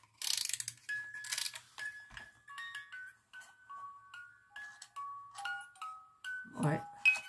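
A small DIY music box mechanism is wound and turned, giving a run of quiet ratcheting clicks and tinkling metallic tones in a soft, uneven rhythm, with a short rustle near the end.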